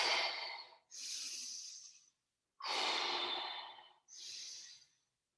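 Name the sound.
deep breathing in and out during exercise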